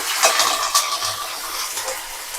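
Curry leaves hit hot oil alongside roasted peanuts in a home kitchen while cooking mango pulihora, giving a steady close crackling sizzle with a few sharper pops near the start.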